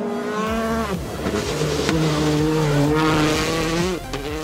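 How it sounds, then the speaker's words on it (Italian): A rally car on a dusty road enters a corner sideways and accelerates away, its engine revving loud and close through rising gear pulls with a brief shift drop near the end. "Ingresso curva di traverso e si va via in accelerazione."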